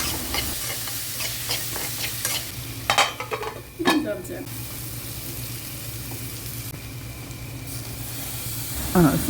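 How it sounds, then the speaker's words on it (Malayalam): Curry leaves and turmeric powder stirred in a hot frying pan for a tamarind okra curry, a steady sizzle with spoon scrapes and a few louder clatters, close and without talk. "പിന്നെ 1 സ്പൂൺ മഞ്ഞൾപ്പൊടിയും കൂടി ചേർത്ത് ഒന്ന് ഇളക്കാം."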